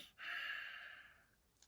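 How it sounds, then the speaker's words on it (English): A single long, deep exhale through the nose during a beginner yoga stretch, a soft, steady breathy rush that starts abruptly and fades gradually, heard up close in a quiet room. "Remember, in the nose, out the nose. Deep breathing."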